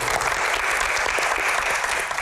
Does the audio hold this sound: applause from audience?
yes